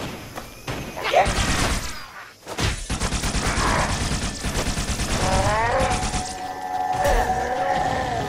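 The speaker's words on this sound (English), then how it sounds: "Spartan, our base is under Covenant attack" Bursts of gunfire and thuds from a Covenant attack on a base in the video game Halo: Spartan Strike, with heavy rattling fusillades, impacts and game effects layered over a dense, loud soundtrack.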